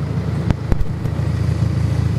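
A BMW car engine idles steadily with a low, even rumble, punctuated by a few sharp knocks or clicks nearby.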